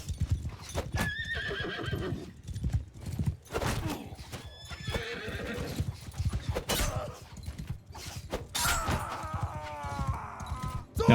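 Horses in a video game medieval battle, with repeated loud neighs and whinnies over dense galloping hoofbeats and clatter, close and continuous.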